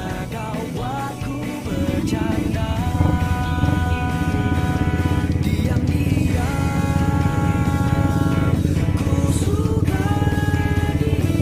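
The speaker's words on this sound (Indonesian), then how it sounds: "Banyak motor konten guys." A group of Manado motovloggers ride motorcycles together on a fun Independence Day group ride; engines drone loudly and steadily, with music playing over the riding noise.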